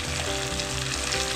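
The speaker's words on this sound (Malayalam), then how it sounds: "തക്കാളിക്കും കൂടെ ഇട്ട് നമ്മൾ നല്ല രീതിയിൽ വഴറ്റിക്കൊണ്ടിരിക്കുകയാണ്" Tomatoes sautéing in a pan for biryani, a loud, steady hiss and sizzle close by with faint stirring sounds and no talking.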